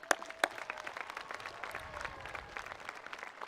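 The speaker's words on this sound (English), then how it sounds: "Students, let's please give your support group a round of applause." An audience at a high school graduation ceremony gives a round of applause, many hands clapping steadily from a distance in a large space. The sound is fairly faint and even, with a couple of sharper claps near the start.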